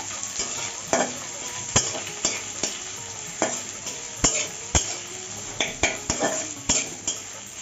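Onions frying in a pan are stirred over and over, the sizzle punctuated by a string of sharp spoon-on-pan knocks and scrapes at an irregular rhythm, close and fairly loud.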